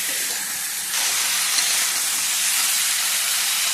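Spices with turmeric, ginger and ridge gourd sizzle in a hot pan for a potato and pointed gourd curry, a loud, steady hiss that swells to a fuller, stronger level after the first second.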